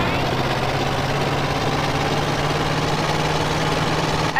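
Truck engine in GTA San Andreas idles with a steady low drone and rattly vibration throughout, constant and fairly loud, no voices over it.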